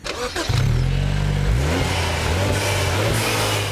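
A BMW Z4's 2-litre turbocharged four-cylinder engine revs hard, loud and close, its pitch climbing, dipping briefly as it shifts, then pulling up again in a steady strong drone.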